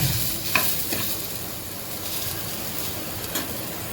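Tomatoes and onions stirred into a hot pan sizzle steadily while cooking, with a few sharp spatula scrapes and taps against the pan up close.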